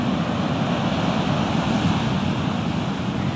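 Ocean swell rolls in as continuous surf at the mouth of the Rivière des Galets at sunset, a loud, steady wash of breaking waves with wind buffeting the microphone and no voices.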